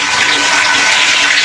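Rusty water draining from a water heater, a loud steady close-up rush and hiss of flowing water, continuous and unbroken throughout.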